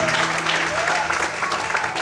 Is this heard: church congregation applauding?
yes